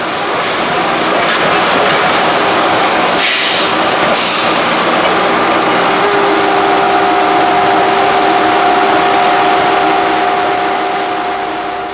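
Railroad track maintenance machine pushing new ties under the rail it stands on during track rebuilding; a loud, steady mechanical roar with rumbling and clanking throughout, and a sustained tonal whine rising in the second half.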